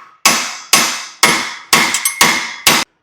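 Six sharp, evenly spaced hammer blows ring out close and loud while a keyway is tapped home on a 1000cc golf cart build, each strike decaying quickly before the next.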